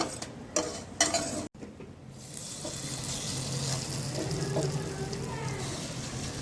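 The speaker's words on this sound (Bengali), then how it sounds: "বাকি যে মিশ্রণটা আছে সেটা একই পদ্ধতিতে, একই প্রসেসে এবং একটু সময় ধরে ভেজে নেব।" A fish curry mixture frying in a wok, a steady, moderately loud sizzle that follows a few utensil clicks and scrapes at the start.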